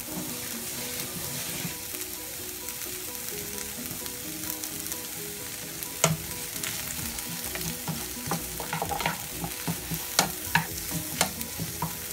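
A ground meat and liver filling for stuffed spleen fries in a pan with a steady sizzle, while a utensil stirs it with a run of scraping clicks that grow more frequent toward the end.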